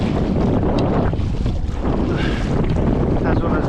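Wind blasts into the microphone on a fishing boat in Hong Kong open water, a loud continuous roar and buffeting that masks everything else.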